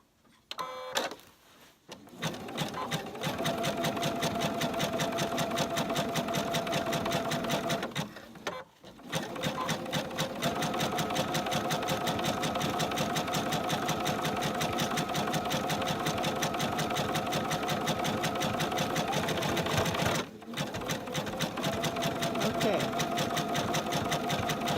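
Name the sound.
sewing machine stitching rope for a rope bowl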